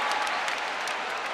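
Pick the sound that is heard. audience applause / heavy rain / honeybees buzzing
audience applause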